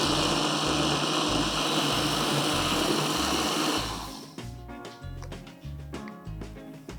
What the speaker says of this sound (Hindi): दोबारा हम ब्लेंड करेंगे इसको